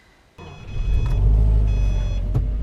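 A 2013 Subaru WRX 2.0 turbo engine starts up and runs at a steady, loud idle, a deep rumble close by with no talking over it.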